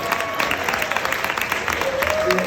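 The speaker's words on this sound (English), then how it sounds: "Everybody, clap it up for Mr. and Mrs. Jones" A crowd claps for a couple at a gathering, with dense, even clapping running the whole time, faint tones and some voices mixed in beneath the sound of many hands.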